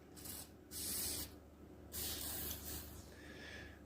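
WD-40 spray can blasting on computer parts during a build on an M5A78L-M motherboard: three separate hissing sprays of about half a second each, close and fairly loud, with quieter gaps between.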